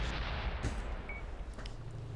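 A tank cannon firing in World of Tanks on Xbox One, a deep rumbling boom that fills the whole clip with a sustained low roar and rolling reverberation, loud and close.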